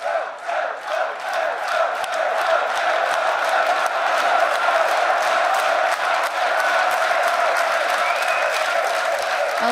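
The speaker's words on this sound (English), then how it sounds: "rightfully deserving that applause" A large esports crowd cheers and applauds steadily after a League of Legends group stage match, a dense continuous roar of clapping and voices that holds at full strength throughout.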